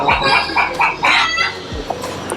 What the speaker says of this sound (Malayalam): കോഴി വെറൈറ്റി, ഒരു പൂവൻ കോഴിയൊക്കെ ഇരിപ്പുണ്ട്.